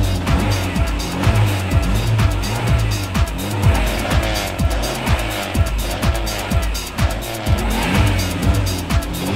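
A car revs hard at full throttle in deep snow during a big snowstorm, engine roaring and surging in repeated bursts as the tires spin and whine, loud and close throughout.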